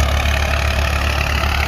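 A 1998 Massey Ferguson 240 tractor drives a double thresher, its engine holding a steady, close, low droning hum with an even mechanical throb and no pauses.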